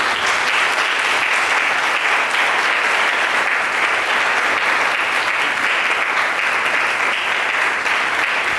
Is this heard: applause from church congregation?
yes